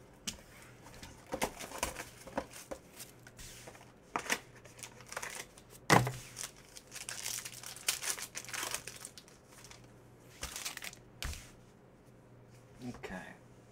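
Trading card boxes and foil packs being torn open in a row, with crinkly wrapper rips and card shuffling throughout, close and sharp, under excited talk between two people.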